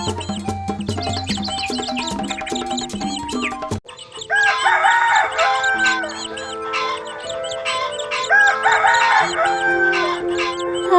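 A rooster crows loudly in a village, its call rising over a bed of background music that shifts midway, with clucking-like accents and no talking.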